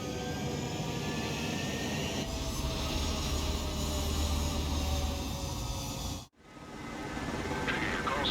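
Jet fighter engines roar on a runway in the combat flight game Ace Combat 7, a loud sustained whine and rumble that cuts out abruptly and resumes moments later.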